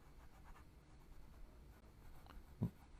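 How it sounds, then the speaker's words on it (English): Pencil drawing lines on paper during a detailed sketch, a soft, faint scratching that repeats in short strokes, quiet and close with no talk. "so I'm changing this line right here, making it a little wider for the drawing's sake"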